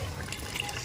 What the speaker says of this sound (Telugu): ఇట్లా నీళ్ళు పోయాలి ఫస్ట్ కొన్ని